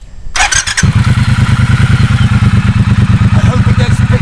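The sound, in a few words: motorcycle engine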